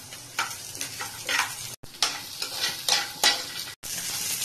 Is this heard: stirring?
yes